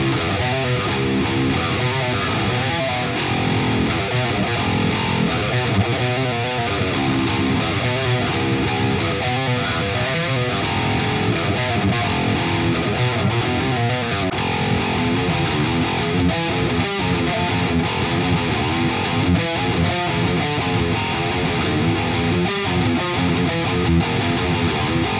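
Heavy, distorted electric guitar chugging through a low rhythm riff in drop E on an eight-string Aristides 080 with 10-74 strings, dense and loud, played alone for the whole stretch.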